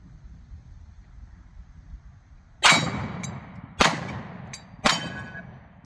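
Three loud 10mm shots from an SA XDM Elite OSP 3.8-inch pistol firing hot ammunition at a controlled cadence, sharp cracks about a second apart with ringing metallic clangs, outdoors after a quiet stretch.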